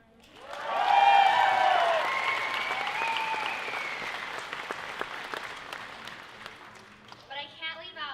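A high school graduation audience bursts into applause and cheering, rising quickly to a loud peak and then tapering off gradually, with a speaker's voice returning at the end.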